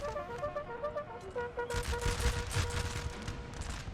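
Ragged musket volleys crackle continuously in a Napoleonic Total War 3 multiplayer battle, growing denser and heavier midway, with sustained tones running underneath.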